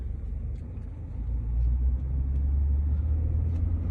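Car rolling slowly through the camping sites of Robertsville State Park, with a steady low engine and tyre rumble that swells slightly partway through, close and continuous with no talking.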